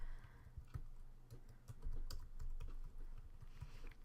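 Fingers typing a password on a computer keyboard, a quiet uneven patter of individual key clicks and taps, close and soft, with no voices.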